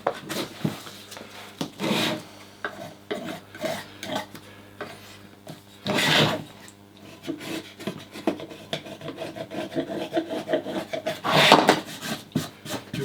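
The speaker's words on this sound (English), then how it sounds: "Give that a bit of a sand with sandpaper" Sandpaper rubbed over wood while modifying a leather belt burnishing vice, producing bursts of dry rasping strokes with pauses between them, close and fairly loud, with no talking.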